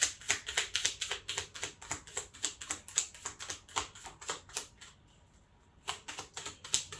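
Playing cards handled and shuffled with lotioned hands, a rapid series of crisp, close riffling clicks that pause briefly, then resume.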